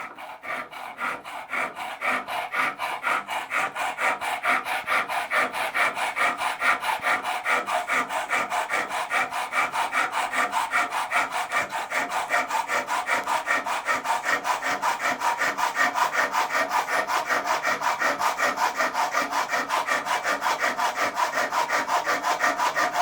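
A hand saw rasps back and forth through round wood in a fast, steady rhythm of strokes, close up and continuous throughout.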